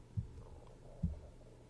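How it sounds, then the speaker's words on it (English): A person's stomach growls twice, each a brief, low, muffled rumble about a second apart against a faint steady hum, with no talking over it. "My stomach growling, bro. My fault. Y'all can hear that."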